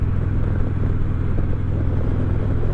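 A 2019 Harley-Davidson Ultra Classic idles with a steady, close, deep rumbling engine note, unbroken and without speech.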